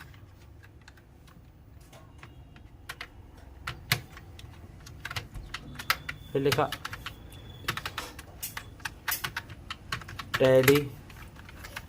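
Keys clatter on a computer keyboard as text is typed into MS Word, with quick irregular clicks and heavier key presses between short pauses, heard close up under ongoing speech.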